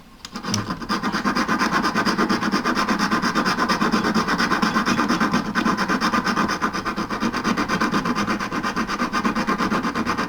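A metal hand file rasps steadily across a half-eternity ring being enlarged with its stones protected, in continuous close, loud strokes after a brief start.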